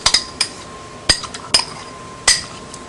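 A spoon stirs defrosting fruit into chocolate sauce in a bowl, giving several sharp, close metallic clinks against the dish at irregular intervals.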